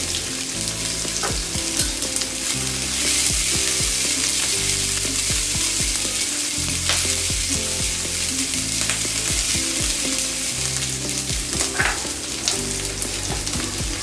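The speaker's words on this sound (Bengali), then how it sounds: "আমি প্রথমেই ডালে বাগার দিয়ে নিচ্ছি দিয়ে দিচ্ছি রসুন কুচি পেঁয়াজ কুচি" Chopped garlic and onion sizzle loudly in hot oil for dal tempering, a steady crackling fry with occasional stirring clinks, close and continuous with no talk.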